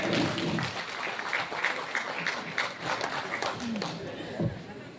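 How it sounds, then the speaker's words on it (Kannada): Applause from an audience at an award ceremony, steady clapping lasting the full stretch, with voices and crowd chatter mixed underneath. "ಚಪ್ಪಾಳೆ."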